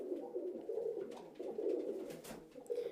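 Pigeons cooing inside a breeding loft, soft repeated throaty coos in a low, rolling rhythm, close and steady with no talking.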